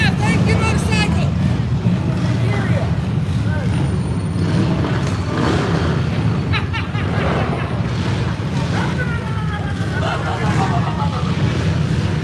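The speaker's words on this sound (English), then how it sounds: "We have a lot of motorcycles here" Motorcycles and other traffic pass through downtown Martinsville, Indiana, during a street protest, making a steady, loud engine roar that never lets up, with crowd chatter and voices mixed in.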